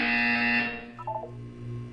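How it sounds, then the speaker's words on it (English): Portal 2 test-chamber buzzer: a loud, steady electronic buzz for about the first second, then short chirping tones and a low hum as it fades. "When you hear the buzzer, look down at the floor."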